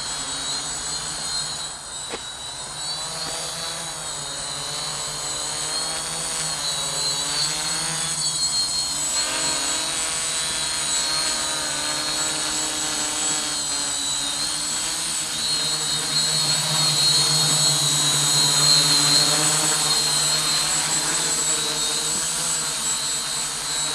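An SK450 quadcopter drone flies steadily outdoors in light wind of a few miles an hour, its rotors giving a continuous buzzing whine with shifting pitch and some wind rumble, fairly loud throughout with no talking.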